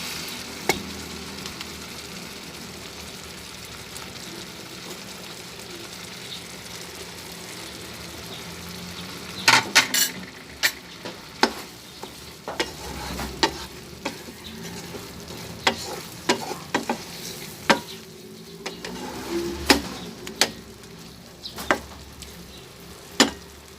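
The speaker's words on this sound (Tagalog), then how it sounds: "Atin lang halo-haluin." Corned beef and egg frying in a pan while being stirred, a steady low sizzle throughout with a run of sharp scraping and clinking utensil hits against the pan in the second half.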